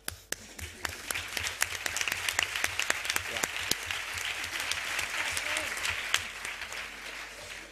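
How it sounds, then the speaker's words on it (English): An audience applauds for Pina at a political plenary session, a dense burst of clapping that starts sharp and settles into steady sustained applause with a voice briefly underneath. "I actually would like to start by giving an applause to Pina"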